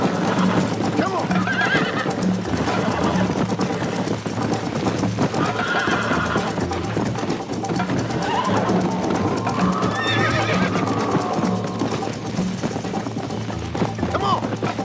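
Horse hooves clip-clop steadily in the video game Red Dead Redemption, with occasional neighs and whinnies, dense and continuous, layered over a busy background with a voice talking.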